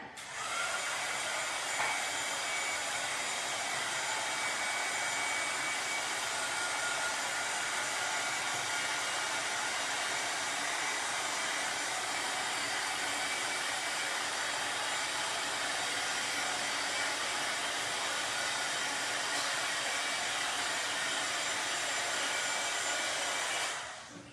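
A hair dryer blows steadily on wet paint on a small craft board, a loud, even broadband whoosh that runs without a break for the whole stretch, close to the listener with no talking over it.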